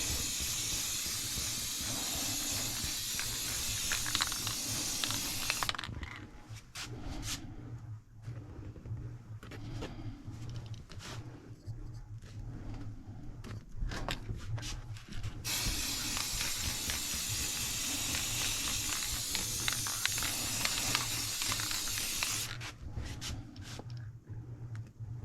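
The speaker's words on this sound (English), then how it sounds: "you just want to give it a thin spray for first time on" Rust-Oleum spray paint hisses from an aerosol can in two long, steady bursts, each several seconds, separated by quieter gaps with light handling noise.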